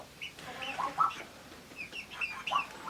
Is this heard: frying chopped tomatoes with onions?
no